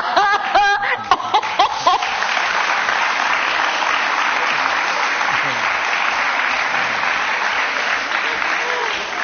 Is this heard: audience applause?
yes